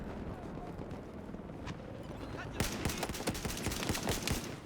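Fast bursts of automatic fire from a G18 pistol in Black Ops, dense crackling rounds that start faintly and then grow louder and more rapid past the midpoint.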